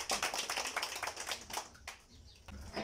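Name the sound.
crowd applause for the chief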